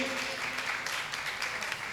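Brief burst of audience clapping at a religious procession gathering with a Jain acharya, a dense continuous patter heard close and fairly loud with a faint voice underneath.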